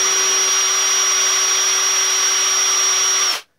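A Ryobi drill spins with no load, giving a steady high-pitched motor whine at constant speed for over three seconds before cutting off abruptly.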